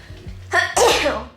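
A single forceful sneeze from a woman touring her plant room, a short intake followed by an explosive, close burst that trails off quickly, with no talking.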